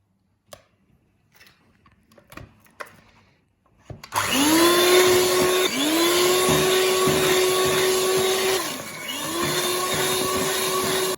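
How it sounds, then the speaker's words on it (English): Vanilla cake batter with egg is beaten by an electric mixer: a few quiet clicks and taps, then a loud, close motor whine that runs in long bursts with brief dips in pitch between them. "So you just want to mix it until the egg yolk has disappeared"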